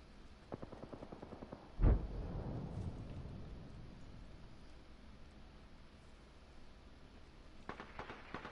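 A frag grenade detonates in the battle royale game Apex Legends, a single loud, close boom with a rumbling tail that fades over a few seconds, set among scattered quieter game sounds.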